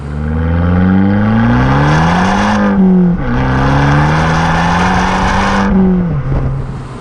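An Abarth 695 Rivale engine and exhaust under load while driving, loud and close, with rising and falling engine revs through two gear pulls, a brief dip at a shift, and a steady droning tone.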